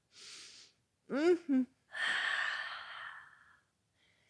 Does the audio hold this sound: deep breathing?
yes